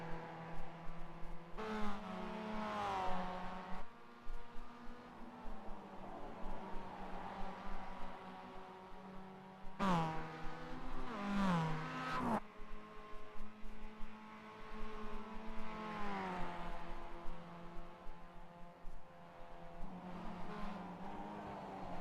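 Mazda MX5 racing at Lime Rock Park in iRacing: an engine note climbing and dropping through repeated gear shifts, with bursts of higher-pitched revving and brief changes as another car closes in, all without talk.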